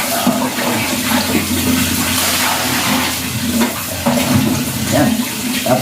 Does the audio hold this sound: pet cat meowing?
no